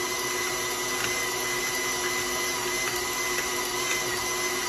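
Electric mixer beating butter and household sugar for oatmeal cookie dough, a steady continuous whirring drone that holds evenly throughout, close and alone.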